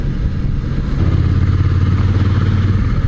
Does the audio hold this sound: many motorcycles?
yes